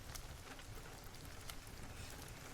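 Steady rain pours onto a surface as a dense, even hiss, with scattered individual drops pattering through it. The sound is continuous and moderately faint, with no voices.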